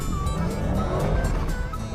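A roughly 700-horsepower Dodge car driven hard and lifting onto three wheels, its engine roaring loudly and continuously up close with tire scrub and strain throughout, no voices.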